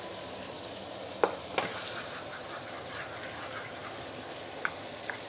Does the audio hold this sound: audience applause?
no